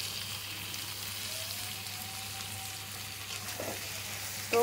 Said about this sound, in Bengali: সব একবারে মশলাগুলোকে দিয়ে একটু কষে নেবো।